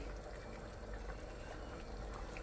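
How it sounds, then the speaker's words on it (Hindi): Chickpea curry (chana masala) with chopped green chillies and mint at a rolling boil in a pot, giving a steady, low bubbling simmer that stays even throughout. "प्रॉपर बॉईल आ चुकी है अब इसमें।"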